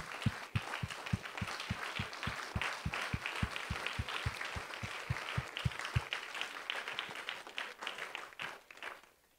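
During a Sunday church service, a congregation gives a hand clap of praise: evenly spaced rhythmic claps in unison under a bed of scattered applause, which thins and fades out after about six seconds.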